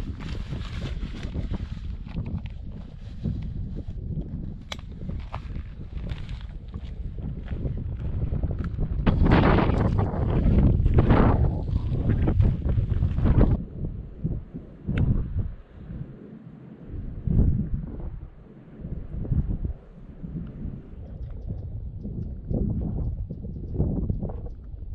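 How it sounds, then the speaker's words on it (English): Cold morning wind sweeps across a desert ridge, roaring and buffeting in uneven gusts with heavy low rumble, swelling loudest midway before easing into choppier bursts. "This place is cold with the wind going right now this morning"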